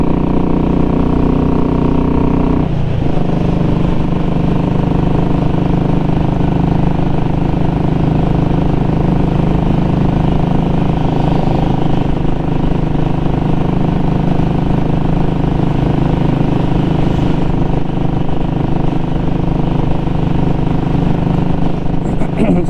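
Royal Enfield Classic 500 motorcycle engine droning steadily at cruising speed on a cold day, with wind buffeting the microphone and someone talking over the ride throughout.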